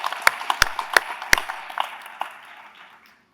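Audience at an electric cooperative's annual meeting gives a round of applause for a family, scattered sharp claps that thin out and fade to silence over about three seconds.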